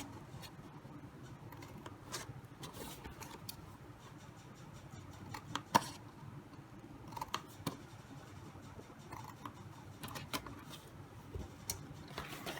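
Scissors cut paper tabs on a hexagonal favor box, a series of quiet crisp snips at irregular intervals with faint paper rustling between them, close and soft with no talking.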